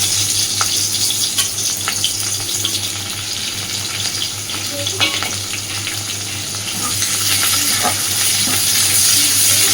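Chopped onion, nigella seeds and slit green chillies fry in hot oil, a loud continuous sizzle with occasional soft stirring scrapes, swelling slightly toward the end.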